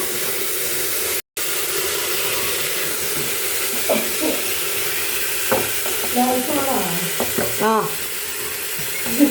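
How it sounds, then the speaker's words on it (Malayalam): Onions sauté in a pan for chicken biryani, a constant close sizzle with scattered stirring scrapes and clinks, briefly cut out near the start, and no talk heard. "ഉള്ളിയിട്ട് ഞാൻ നന്നായിട്ട് വഴറ്റാണ്"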